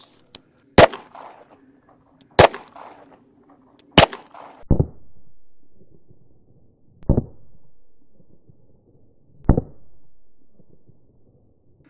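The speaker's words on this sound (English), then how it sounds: "three rounds of 22 out of Ruger Mark IV" Three .22 rounds fired from a Ruger Mark IV into the back side of a 3A body armor vest, each a sharp, loud crack spaced a couple of seconds apart, with fainter thuds and handling noises between shots.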